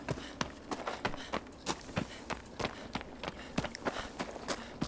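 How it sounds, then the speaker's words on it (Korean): In Wander and the Colossus, a character runs with quick, evenly spaced footsteps that slap like splashing water. Each step is sharp and close and keeps a steady running rhythm with no talk. "왜 이렇게 뛰는 발소리가 무슨 물 첨벙첨벙 거리는 소리 같냐"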